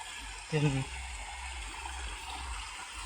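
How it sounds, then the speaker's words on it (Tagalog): Water flows in a dirty, polluted stream used as a dumping spot, a continuous close rushing and trickling wash, with a brief voice passing over it near the start. "Yan yung sapa."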